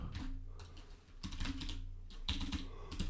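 Rapid, uneven keystrokes on a computer keyboard, close and fairly quiet, clattering in short bursts with brief pauses and no talking.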